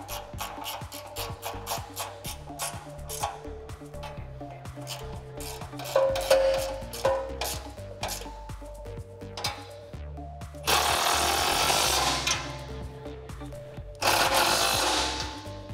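Bolts and nuts being tightened on a bumper bracket of a 2018-2020 Ford F150, with repeated ratcheting clicks and metallic scraping, plus louder bursts of a power tool running near the end.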